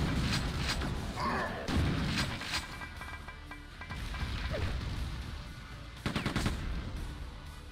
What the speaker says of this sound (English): The shotgun is not very good at dealing with those losers